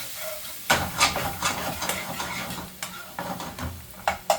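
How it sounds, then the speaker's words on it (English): Chicken sausages and small onions fry in a pan as a spoon gives a quick mix, a steady sizzle punctuated by several scraping strokes and clinks close by. "I'm going to give this a quick mix so it doesn't burn"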